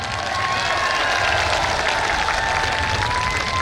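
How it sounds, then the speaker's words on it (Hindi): An audience at a Rajasthani public gathering with a minister present gives dense, steady applause, a broad wash of many hands clapping continuously at moderate loudness throughout. "आप ये तालियां एक बार जो मेरे लिए बजाना चाहें वो डोटासरा जी तक तालियां बजाकर आप उन्हें बता सकते हैं"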